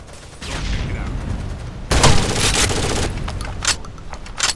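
Gunfire rattles through a Rainbow Six Vegas 2 firefight as sustained loud bursts and sharp cracks, intensifying after a brief lull, with rapid repeated shots near and far across the whole stretch.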